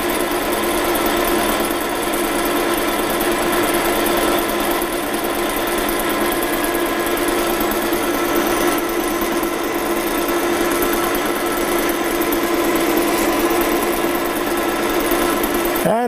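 A metal lathe runs steadily while it turns and cuts metal with cutting fluid, a constant loud machine hum and whine with no break and no voices.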